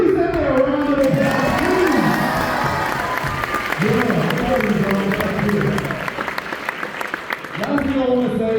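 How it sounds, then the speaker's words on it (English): A high school audience at Mountain Range High School claps and cheers loudly, with whoops and shouting voices layered over continuous applause. "give me Sente a round of applause."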